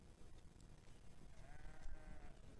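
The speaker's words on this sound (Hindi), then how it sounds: "ऊपर ये तमाम भेड़ बकरियां चर रही हैं" Sheep and goats grazing on a hillside near Tehri lake, with a faint, wavering bleat rising from the flock late on over a soft outdoor background.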